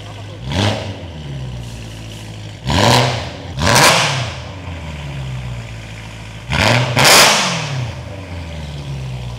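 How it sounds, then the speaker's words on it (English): BMW E92 M3 with straight pipes, a deep idling rumble broken by four loud sharp revs that rise and fall quickly, spaced a second or two apart, very close and loud. "Let's get one of the guys to rev it for us."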